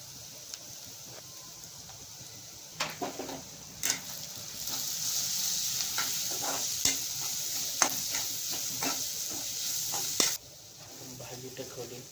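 Onion and spices sauté in a pan, a soft steady sizzle under repeated clinks and scrapes of a stirring spoon, fairly close and quiet, with a brief lull near the end.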